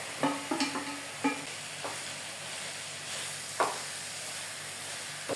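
Steady sizzling and frying of chicken pieces in a pan with a few clinks and stirring taps scattered throughout, fairly quiet and close.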